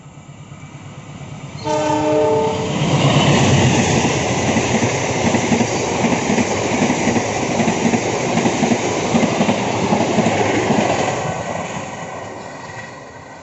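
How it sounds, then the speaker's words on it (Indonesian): The Wijaya Kusuma K116 passenger train rumbles past close by in Central Java, Indonesia, with a loud, steady roar of wheels on rails, briefly preceded by a horn blast, then fades slightly toward the end. "Kereta api Wijaya Kusuma K116 dari Cilacap sampai dengan Ketapang Banyuwangi."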